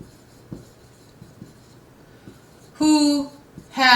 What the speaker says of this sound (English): I want to write that down